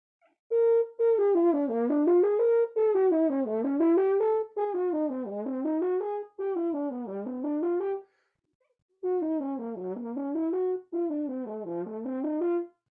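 A solo French horn slurs smoothly up and down through its harmonic series in repeated sweeping phrases, with a brief pause between groups.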